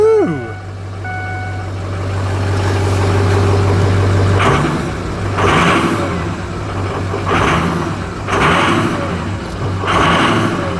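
A cheap used pickup truck's engine runs and revs in repeated surges after a rising whine and a steady electronic beep, with people talking over it.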